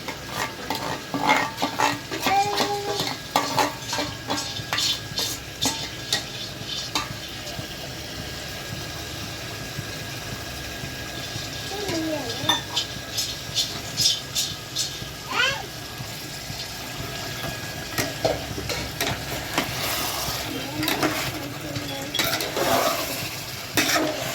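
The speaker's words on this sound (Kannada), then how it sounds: "ಕೊತ್ತಂಬರಿ ಸೊಪ್ಪು ಮತ್ತು ಪುದೀನ ಮಿಕ್ಸ್ ಮಾಡ್ತಾ ಇದ್ದೀನಿ" A spoon stirs coriander and mint in a cooking pan, with repeated scraping strokes and a light sizzle in an irregular rhythm, close up, while someone talks at intervals.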